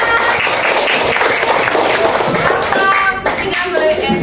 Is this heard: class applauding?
yes